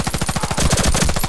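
Rapid automatic gunfire from the online shooter Warface in a free-for-all match, a dense, steady burst of shots that fills the whole moment, loud and close with no voices.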